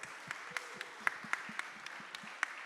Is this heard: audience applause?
yes